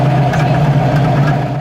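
A 1959 Corvette restomod with a 6.2-liter LS3 V8 and custom MagnaFlow exhaust idles with a deep, steady low burble, loud and close.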